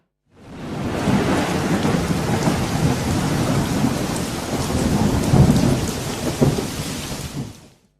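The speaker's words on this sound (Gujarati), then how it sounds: "અમદાવાદમાં પડેલ ભારે વરસાદને લઈને" Heavy rain pours steadily in Ahmedabad, with deep rumbling thunder rolling underneath; loud, dense and continuous, with no voices.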